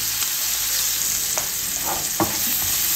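Garlic and red onion sauté in a pan as the base for sinigang sa miso, a steady close sizzle running throughout with a few soft stirring scrapes and no voices.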